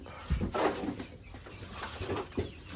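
Two-month-old chicks on a farm give soft, scattered clucks and peeps, nearby and fairly faint.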